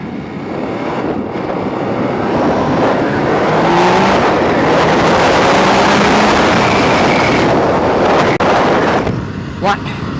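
An MV Agusta 800 Brutale, an 800 cc three-cylinder motorcycle rated at 116 hp, revs loudly nearby with rising and falling engine sweeps, and voices talk partly over it.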